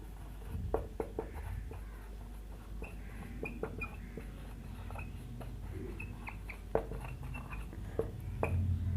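Chalk or marker tapping and scratching on a board in a classroom as a lesson on liquid viscosity is written out, with irregular short strokes and taps over a steady low room hum.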